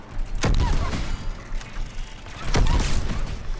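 Shotgun fire in the video game Mass Effect 3, two heavy blasts spaced about two seconds apart over a busy background of game noise and mechanical clatter.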